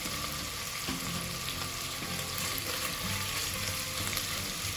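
Linguiça sausage fries in a pan for a crusted quiabada baiana, giving a steady, dense sizzle that runs without a break, close and fairly loud, with small stirring knocks now and then.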